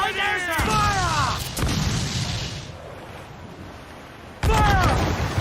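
Ship cannons in Assassin's Creed 4 Black Flag fire in heavy booming blasts, one early burst and another near the end, loud and close, with shouted crew voices and rushing wind between shots.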